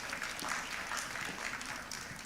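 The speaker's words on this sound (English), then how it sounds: "Give a big applause for our panelists." Quiet, steady clapping from a conference audience applauding the panelists after a session on the blue economy, an even patter heard at a distance with no speech over it.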